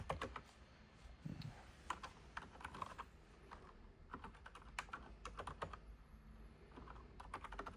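Close, quiet keyboard typing runs in irregular bursts of clicking keystrokes as Wi-Fi details are entered, with short pauses between runs.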